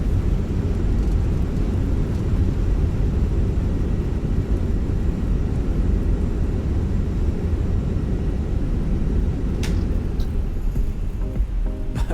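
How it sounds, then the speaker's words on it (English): Airliner engines roaring in reverse thrust during a landing rollout at Bristol in a flight simulator, a loud steady low rumble with no breaks that holds throughout. "Full reverse thrusters on."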